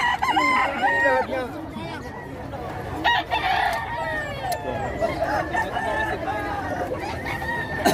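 Fighting roosters crow repeatedly at a busy poultry market in Bocaue, Bulacan, several overlapping cock-a-doodle-doos rising over clucking and a murmur of background crowd chatter.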